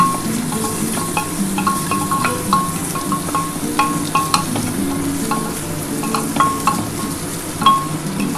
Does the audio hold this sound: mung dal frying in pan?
yes